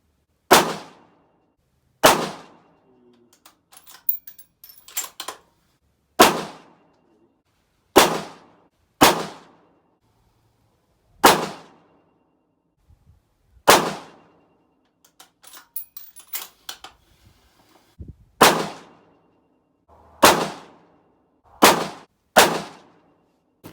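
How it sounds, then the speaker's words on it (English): Gunshots at an outdoor gun range, about a dozen sharp loud cracks at irregular intervals, each trailing off with a brief echo, and faint clinks and handling noises between shots. "we've definitely shot some ammo"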